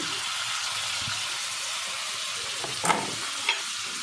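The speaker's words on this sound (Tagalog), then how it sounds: "Gisa na tayo ng adobong pusit" Garlic, onion and ginger sautéing in a pan for squid adobo make a loud, continuous frying sizzle, with a couple of brief scraping stirs near the end.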